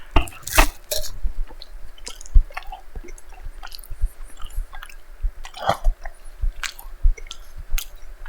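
Close-up chewing of an overly cheesy grilled cheese sandwich, with irregular wet, squishy bites and a few sharper crunchy clicks spread through the stretch.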